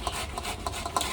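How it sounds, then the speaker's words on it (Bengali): Soaked red lentils being ground into paste on a grinding stone, a steady close rasping rub with faint repeated strokes, quiet and alone. "মুসুরির ডালটা আমি বেটে নেব।"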